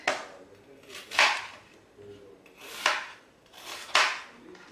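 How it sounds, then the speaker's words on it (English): A handheld vegetable chopper cutting onions, four or five sharp chopping strokes at irregular intervals, close and fairly loud with quiet gaps between. "This is a vegetables chopper. So I'm just gonna cut the onions to a bit smaller pieces."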